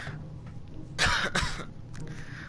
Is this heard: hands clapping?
no